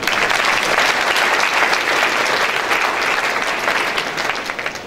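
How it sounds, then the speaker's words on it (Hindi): A Pentecostal church congregation claps together in sustained, dense applause that fills the room evenly, then starts to taper slightly near the end. "सब लोग ताली बजाए कम से कम।"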